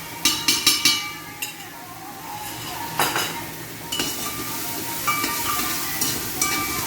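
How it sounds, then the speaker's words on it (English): Onions sizzle in a pan for Awadhi mutton, a steady frying hiss broken by several clinks and scrapes of a spoon stirring against the metal, close and moderately loud. "we will fry these onions till they are pink"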